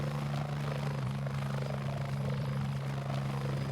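A cargo plane's engines drone in the video game Pursuit Force, a steady low-pitched hum running unbroken and fairly faint throughout.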